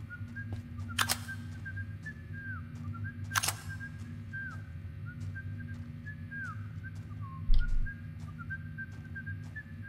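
Sparky whistles in the video game Do You See Sparky?, a series of short, thin whistled notes, some gliding, spaced out over a low droning background, with two sharp clicks and a brief thump breaking in.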